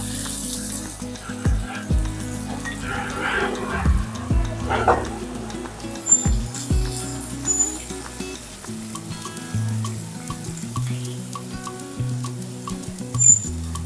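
Onion frying in a pan for a raw mango tikhla, a close continuous sizzle with occasional stirring knocks, partly under intermittent talking.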